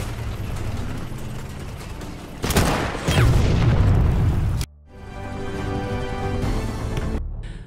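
A wartime battle scene with a sniper rifle firing on mortar shells, loud booming blasts and heavy rumbling with a sharp burst of explosive noise in the middle, then a sudden cut to quieter rumbling.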